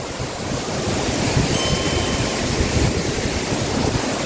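A continuous loud rush of falling water from a waterfall, heard near its base, fills the air, a dense, steady roar with no breaks and no talking.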